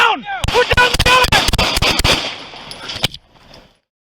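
Rapid gunfire during a shootout with West Sacramento police officers, a dense volley of many sharp, loud, close shots fired in quick succession over about three seconds, then a final crack and quiet, with a brief voice at the start.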